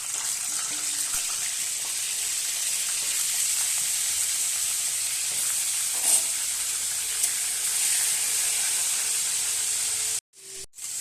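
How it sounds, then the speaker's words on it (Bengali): Fish heads fry in hot oil in a wok, a loud steady hiss and sizzle close up that continues for several seconds before abruptly cutting off near the end. "তেল গরম হয়ে গেছে, এবার আমি মাছের মাথা দিয়ে দেব।"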